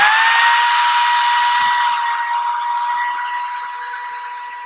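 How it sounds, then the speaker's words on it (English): A drill fitted with a sanding pad spins steadily against cedar wood with a high whine, slowly winding down over a few seconds, with faint scraping under it. "I'll take my sanding pad that's on the end of the drill, hold it steady."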